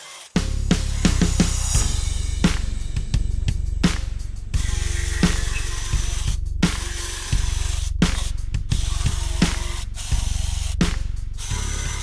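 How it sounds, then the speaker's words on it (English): A jigsaw cuts notches into a wooden board, buzzing loudly and continuously up close with a rapid rattling chatter. It stops briefly several times between cuts. "I'm just going to knock these out with a jigsaw real quick and show you what we end up with"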